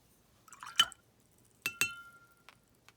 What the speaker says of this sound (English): I'm just splattering some water.